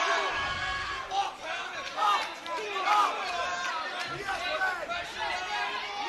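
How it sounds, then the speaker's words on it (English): An excited crowd roars and shouts at a cage fight, its cheering rising and falling in surges while a commentator talks over it. "The crowd is getting very,"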